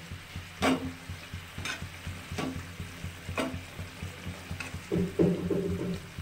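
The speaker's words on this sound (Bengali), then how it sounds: "মাছগুলো একটু ঝোলে ফুটলে ঝোলের স্বাদটা বেশি ভালো হয়" Pabda fish curry with poppy seed paste simmering in a pan, a steady bubbling sizzle with a few sharper spatters and stirring knocks at intervals, close and alone.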